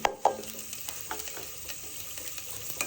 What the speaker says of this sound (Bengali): এখন আমি পেঁয়াজ কুচি, রসুন কুচি, আস্ত শুকনা মরিচ দিয়ে দিব।